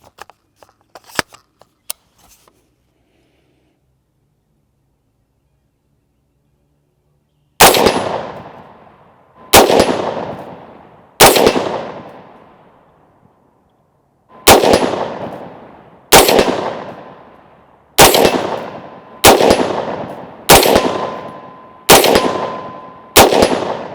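Rifle shots of Perfecta 55 grain FMJ strike steel targets at 75 yards: nine sharp, loud cracks with ringing metallic decays, spaced a second or two apart after a few faint clicks and a quiet pause.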